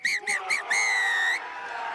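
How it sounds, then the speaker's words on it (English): Referee's final whistle at an under-19 rugby union international between England and France: three short blasts followed by one long sustained blow, loud and close, with faint crowd noise behind. "There is the final whistle"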